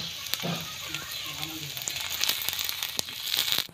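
A Mughlai paratha fries in oil on the stove, a close, crackling sizzle with scattered sharp pops and light spatter that grows slightly louder toward the end.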